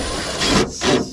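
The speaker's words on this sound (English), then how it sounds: "I'm gonna put this bolt in, fit it" A bolt scrapes and rubs as it is fitted into a metal swimming pool wall panel, giving two short, close grinding passes with a brief pause between them.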